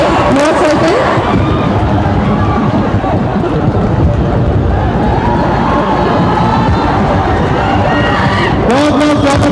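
A large audience at a coaching institute event in Bihar claps and cheers steadily to welcome a reasoning teacher onto the stage, a loud, dense, continuous wash of applause and crowd hubbub that fills the whole stretch.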